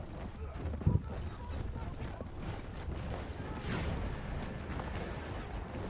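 Horse hooves clatter in the Battlefield 1 video game, a soft, steady clip-clop buried under continuous game noise while players talk over it.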